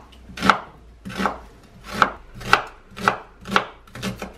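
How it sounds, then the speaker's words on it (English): Sweet potatoes and onion being chopped with a knife on a board in a home kitchen: about eight firm, evenly spaced cuts, close and clear with no talking. "So let's get chopping."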